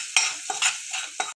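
Spices for samosa filling, including turmeric and homemade masala, stirred and fried in a pan: a soft frying hiss with four or five brisk scraping stirs close by, no voices.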